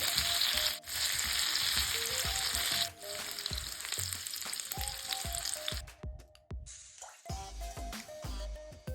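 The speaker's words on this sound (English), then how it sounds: "I'm going to saute this for a minute and add it to the prawns and the egg." Vegetables sauté in a hot pan for prawn fried rice, giving loud, close sizzling and crackling. Repeated stirring scrapes and taps break through the sizzle, and the frying softens briefly near the end.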